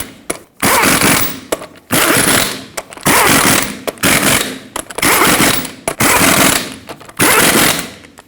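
Impact wrench tightening lug nuts on a 2011-2016 Ford F-350 front wheel in a cross pattern: loud, close bursts of rapid hammering, about seven in a row separated by short pauses.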